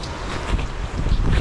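Strong gusts buffet a microphone outdoors in freezing weather during a motorcycle commute on a Honda NC750X DCT, a loud, continuous roar with rising and falling surges.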